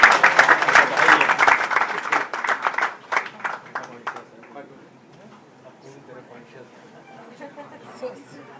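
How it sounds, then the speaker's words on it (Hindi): Birthday clapping from a crowd at a Haryana women's scheme event, dense and loud for about four seconds before thinning out into scattered murmurs and faint voices. "कृपया तालियों से उसको बहुत बहुत बधाई है"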